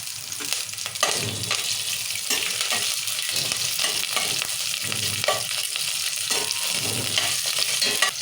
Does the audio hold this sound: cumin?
yes